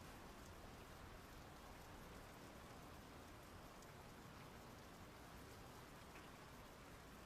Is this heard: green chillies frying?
no